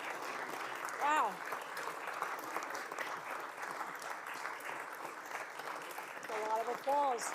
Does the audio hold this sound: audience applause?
yes